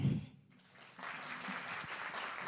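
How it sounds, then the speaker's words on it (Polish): An audience applauds at a singing festival, a brief burst of clapping that settles into a steady, moderately distant patter after a short lull. "Brawa, brawa, szanowni państwo."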